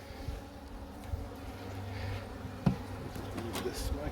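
A small opened mating nuc with few bees gives off a faint, steady hum of honeybees flying close by, low and continuous, with a sharp clunk partway through.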